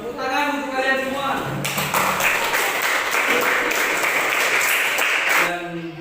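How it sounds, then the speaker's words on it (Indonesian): A classroom of students applauding together, a dense burst of clapping that starts after a moment of talk and holds steady for several seconds before fading, with speech heard around it. "tepuk tangan untuk kalian semua"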